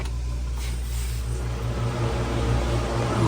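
A GE top-load washing machine's drum spins up after draining, giving a steady, loud motor rumble and whir that holds without a break.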